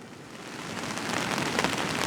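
Heavy rain drums steadily and loudly on a Hilleberg Unna tent during alpine camping in gusty winds, a dense close hiss that swells slightly toward the end with no voices.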